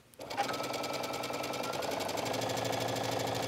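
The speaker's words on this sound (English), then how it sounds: "So I'm just stitching with a straight stitch all the way down the side seam." A sewing machine runs a straight stitch down a t-shirt side seam, starting up and then whirring at a steady, fast mechanical rhythm close by.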